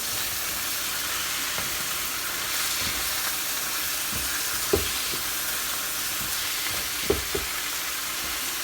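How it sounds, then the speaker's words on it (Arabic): Chicken pieces fry over high heat in a pan for chicken saj, giving a steady, loud sizzle with a few sharp clinks of stirring. "خلي تكون النار شوية عالية حتى الدجاج لا ينزل ماي"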